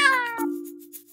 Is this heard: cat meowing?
yes